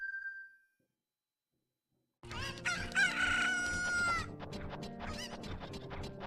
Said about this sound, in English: Now we just gotta do Anju's chickens.